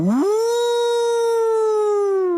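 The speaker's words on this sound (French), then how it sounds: "le loup qui imite De Funès dans Oscar" A wolf howls in one long, loud, close tone that rises sharply at the start, then holds level and sinks slightly, rich in harmonics and sounding alone.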